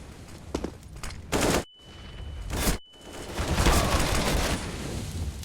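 Bursts of M4 rifle fire in Counter-Strike at a pro match, loud sprays of rapid shots separated by short gaps, then sustained firing with a steady high tone beneath.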